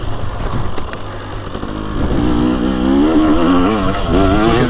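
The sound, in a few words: two-stroke 2023 TX300 Heritage Edition dirt bike engine revving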